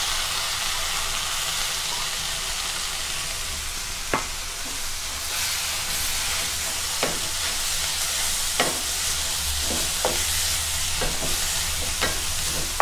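A spoon stirring coriander leaves into cooked tomatoes and green chillies in a hot pan, steady loud sizzling broken by several sharp scraping strokes against the metal, close up with no voices.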